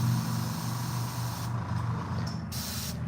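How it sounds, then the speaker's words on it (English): A cheap airbrush sprays paint onto a fishing lure, giving a steady close hiss over a low compressor hum, with the spray cutting in and out in short bursts. "I guess I probably shouldn't have gone with like the cheapest airbrush set from Amazon"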